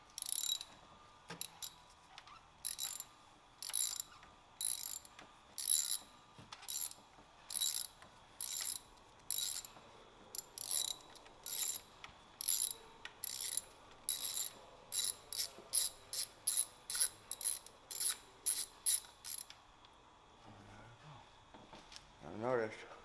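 A ratchet clicks in quick bursts while loosening a spark plug down in an engine cylinder, repeated short clicking strokes with brief pauses, close and fairly quiet.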